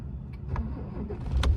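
A Ford Powerstroke diesel cranks and catches in winter cold, a short rough engine start with a few sharp clatters rising in loudness, close by.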